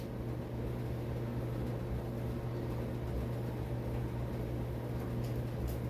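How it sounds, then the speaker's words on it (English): Constant mechanical hum from a space heater and clothes dryer running indoors, a faint, even drone with a steady low tone and broadband whoosh, unchanging throughout and without speech. "I apologize for the noise. I have my heater going, my dryer going."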